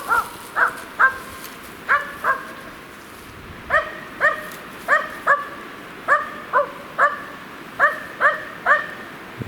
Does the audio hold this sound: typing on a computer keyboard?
no